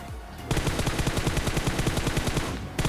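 Rapid automatic gunfire from a prone position in a shooting video game rattles in one fast, steady burst, loud and close, after a brief quiet lead-in.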